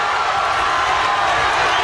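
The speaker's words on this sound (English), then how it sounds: "And listen to the crowd respond." A crowd at a BAMMA mixed martial arts title fight roars in a dense, continuous wash of cheering, loud and unbroken throughout the short stretch.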